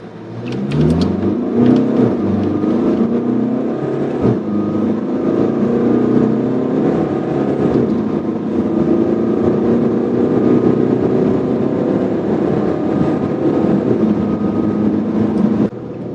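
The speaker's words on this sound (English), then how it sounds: "So now we'll put the vehicle into sport mode and we'll be shifting manually. So now left foot on the brake," Range Rover Discovery Sport HSE accelerating hard in sport mode with manual shifting from a brake-held launch, producing a loud, sustained engine roar that climbs in pitch across gear changes and is heard from inside the car.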